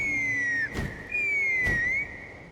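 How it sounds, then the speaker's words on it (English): Two clear rising-and-falling whistle calls, each broken by a short broad burst, sounding in the video game Genshin Impact; close and fairly loud, with no talking. "That sounded like a whistle."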